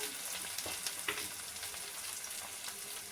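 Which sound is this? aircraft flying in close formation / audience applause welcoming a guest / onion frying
onion frying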